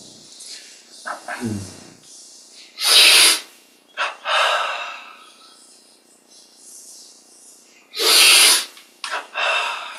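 Deep breaths taken during a breathing exercise in a yoga and meditation session: two long, loud, close inhalations several seconds apart, with softer breathy sounds between them and no speech.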